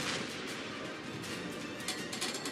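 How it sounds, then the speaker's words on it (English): Warship guns from a St. Louis cruiser firing in World of Warships, a dense, continuous roar of heavy gunfire and rumbling blasts that holds steady at moderate loudness throughout. "I might be able to shoot at that cruiser with a nice 8 of my guns"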